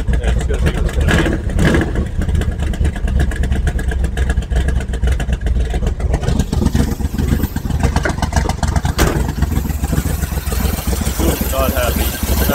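A big block Chevy V8 idling roughly from worn spark plugs, a loud, close, uneven lumpy rumble that runs continuously with a brief rev in the middle.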